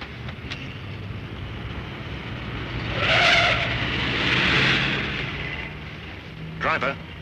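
A car skids during a 1946 film chase, engine roaring with a swelling tire screech, then a brief sharp squeal near the end, while voices talk.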